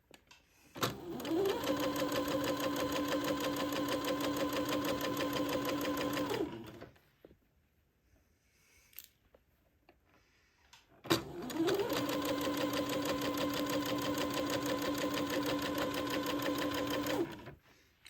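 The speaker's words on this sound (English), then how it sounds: "I will slowly sew right to the right of the entree line" A sewing machine stitches lace panels onto a gown, its rapid needle clatter rising to a steady hum for about five seconds, then stopping briefly before a second equally long run.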